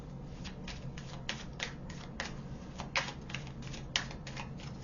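Tarot cards being drawn and handled in a quiet room, a series of soft, separate snaps and slides spaced irregularly over a low steady background, with no talking.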